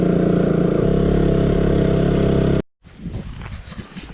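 A motorcycle engine runs loud and close with a steady droning hum on wet roads in Kerala. After a sudden cut, quieter rumbling road and wind noise follows, with no voices.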